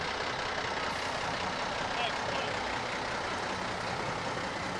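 A large diesel engine of a 1965 Mack fire engine idles steadily at a parade, a constant broadband rumble and hiss holding at a fairly even level throughout.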